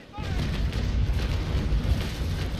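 A carronade cannon in the naval battle game Naval Action booms close and loud, followed by a rolling, rumbling roar of broadside fire that holds steady for a couple of seconds.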